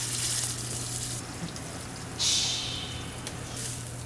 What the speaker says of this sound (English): you wanna hear a shh the second it hits the pan